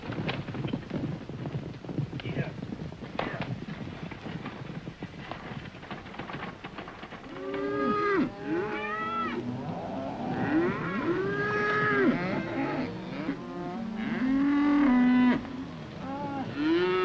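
Cattle on a desert ranch low repeatedly, several moos rising and falling in overlapping calls over a steady background rumble, growing louder toward the end.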